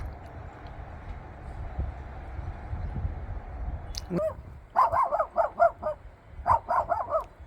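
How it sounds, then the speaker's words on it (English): A dog barks repeatedly in short bursts outdoors in falling snow, fairly close, in two quick clusters after a quiet stretch of low background rumble. "What you barking at?"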